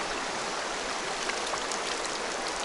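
An icy mountain river fed by glacier meltwater rushes in a steady, dense broadband wash, close and continuous with no pauses.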